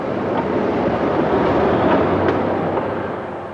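A loud, steady rumble of a small rail bus rolling along the tracks across the Andes in Chile, close by and continuous, with a broad roaring texture and no talking.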